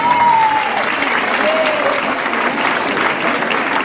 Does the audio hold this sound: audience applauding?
yes